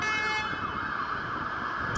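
An ambulance siren wails continuously, a steady rising and falling electronic tone over road traffic from vehicles responding to an emergency, loud and close for the whole moment.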